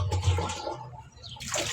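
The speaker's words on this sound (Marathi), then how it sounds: "पाणी लवकर सुटलंय आज." Water from a supply line runs and splashes, a gurgling, rushing flow that swells, dips briefly and surges back again, heard close by without any talk.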